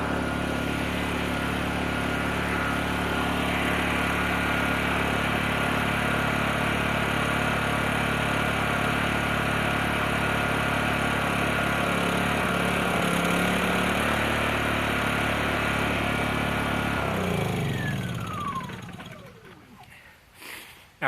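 A Predator 3500 generator engine runs steadily on choke, a loud, close drone, then shuts off and winds down to silence near the end.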